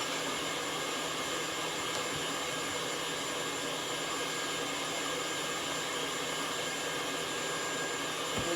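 An electric mixer beating yeast roll dough in a bowl, a steady, loud whirring motor drone that runs unbroken and close throughout, with no talk.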